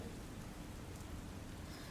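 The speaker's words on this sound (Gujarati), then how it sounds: "ભારે વરસાદ તેજ પવનની સાથે વરસાદ પડવાની સાથે ઓરેન્જ એલર્ટ જારી કરાયું છે" Heavy rain driven by strong wind falls in Mumbai, a steady, even wash of rainfall that runs throughout without any voices.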